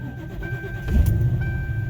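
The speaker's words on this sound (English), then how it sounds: "Fires up no problem, just as any car should, honestly, even in this cold weather" The engine of a 2007 Ford Crown Victoria Police Interceptor cranks briefly and catches on a cold, icy day, settling into a steady close idle rumble with no talking.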